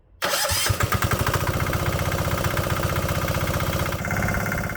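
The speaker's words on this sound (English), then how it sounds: "Today, we're going to upgrade the low-cost diesel engine in the Cushman Desperado with an electric starter kit." The low-cost diesel engine of a Cushman Desperado golf cart, fitted with an electric starter kit, fires up quickly and settles into a loud, close, rhythmic chugging idle.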